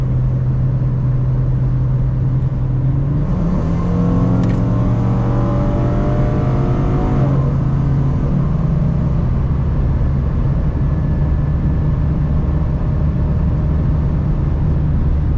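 A Ford Mustang drives along a wooded hill road in Germany, its engine droning steadily from inside the cabin, then rising through a strong acceleration before easing back to a steady cruise.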